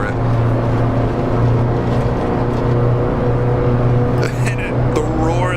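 A 1923 Grand Prix racing car in Assetto Corsa roars steadily close by, a loud droning engine with strong low harmonics like an airplane motor, holding pitch throughout with brief rising whines near the end.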